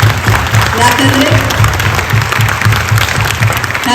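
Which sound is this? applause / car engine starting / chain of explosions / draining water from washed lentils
applause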